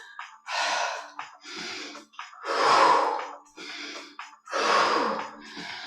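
Deep, forceful exhales repeated during a cardio yoga sequence, four or five long breathy gusts close to the mic with short pauses between them, no speech.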